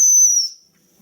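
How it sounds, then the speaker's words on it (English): Steam whistle on a small model steam engine, a single piercing high-pitched blast lasting about half a second, close and loud, then cut off into near silence. "we get to make sure the whistle's going"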